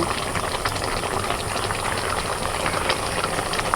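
Fish curry with small fish, slit green chillies and coriander leaves boiling steadily in a pot, a continuous dense bubbling hiss at close range, fairly loud and unbroken throughout with no talk.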